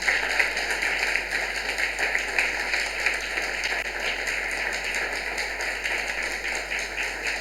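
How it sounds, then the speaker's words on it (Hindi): A church congregation at a Christmas Sunday service applauds with steady, dense clapping, loud and sustained throughout without a break. "उन सब के लिए एक बार और ताली।"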